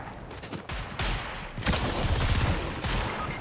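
Shotgun blasts in Fortnite: several sharp, loud bursts of gunfire in quick succession, dense and overlapping, with game noise throughout.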